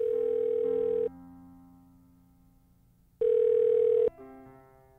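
A telephone ringing in two long electronic bursts separated by a pause of about two seconds, each burst clear and close with a fading tail afterward; no one speaks.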